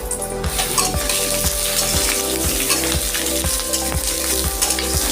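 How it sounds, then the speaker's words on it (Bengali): Loud, continuous sizzle of potatoes frying in mustard oil in a pan, dense crackling hiss with occasional utensil scrapes, over a steady rhythmic thumping beat in the background. "আমি দিয়ে দিচ্ছি সর্ষের তেল আমি প্রথমে একটু আলুটা ভেজে নিচ্ছি"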